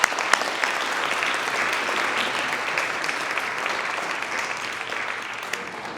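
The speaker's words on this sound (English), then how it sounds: "would you please join me in a round of applause to thank them for making these programs" Audience applause fills a lecture hall at a Boshell Foundation talk on Pliny, pigments and ancient painters: dense, steady clapping from many hands that runs unbroken and fairly loud throughout.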